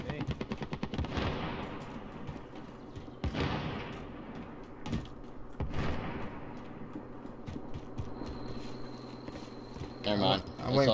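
Rapid automatic gunfire and heavy shots in Call of Duty: Warzone, loud bursts repeating across the whole stretch, with players talking over the shooting.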